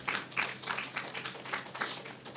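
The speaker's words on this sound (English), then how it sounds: "I want to give him a big round of applause." Rhythmic clapping from an audience at the JN Group Race for Hope 2026 launch, honouring Mr. Graham; a steady run of sharp, fairly close claps with no talk.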